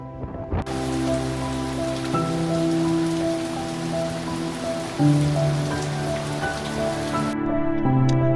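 Steady, dense rain patters without pause throughout on a boat at anchor at Rudder Cut Cay in the Exumas, with a low sustained tonal drone running underneath.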